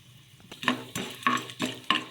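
Lentils such as urad dal and chana dal are stirred and fried in a pan, with a spoon scraping at regular strokes over a soft, steady sizzle.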